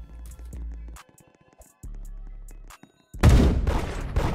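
Gunfire in the Roblox game Da Hood: a few short tonal game effects, then a loud, dense burst of shots near the end.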